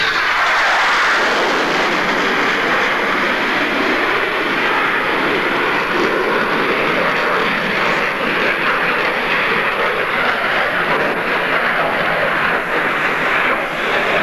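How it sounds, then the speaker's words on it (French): A jet fighter at a 1988 air show in Yverdon, Switzerland, roars past loud and sustained, a broad rushing engine blast that swells and holds for the whole stretch with no talk. "vous avez un avion en réaction"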